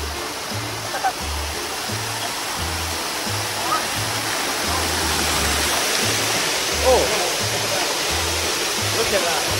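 Water runs steadily across a flooded floor like a shallow stream, a constant broad rushing wash with low thumping steps or knocks mixed in.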